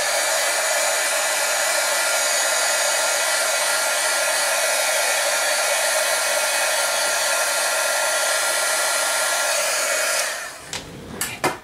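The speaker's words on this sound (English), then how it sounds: "I'm going to hit it with the heat gun." Heat gun blowing steadily for about ten seconds to dry freshly inked paper, a loud constant airy roar up close before it switches off and a few small clicks and taps follow.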